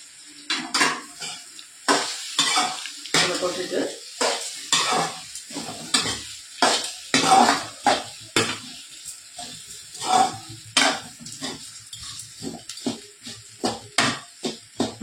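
Lentil usli being stirred in a pan: a series of distinct spatula scrapes and clinks against the pan, roughly one every second, over a faint sizzle, close and fairly loud, no talking.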